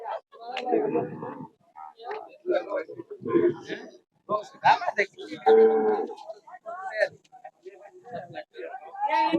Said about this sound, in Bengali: দেখতে পাচ্ছেন এখানে বিশাল গরু অনেক গরু আনছে